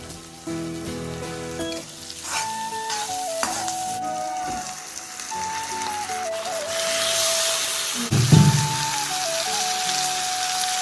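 Cumin and turmeric sizzle and fry in hot oil in a pan for a home-cooked pork dish, a steady close crackle running beneath a loud music track throughout.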